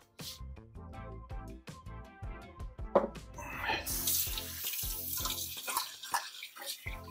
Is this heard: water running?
yes